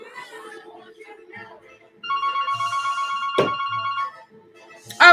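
A mobile phone ringtone plays a repeating electronic melody, loud and close, after a stretch of softer tune, with a brief sharp noise near the end.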